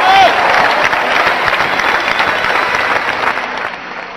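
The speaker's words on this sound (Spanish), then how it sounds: "Denle ese aplauso al Rey de Reyes y Señor de Señores, Jesucristo." A church congregation at a crusade in Colombia breaks into loud, dense applause that continues steadily and fades slightly over four seconds, with a brief whistle at the start.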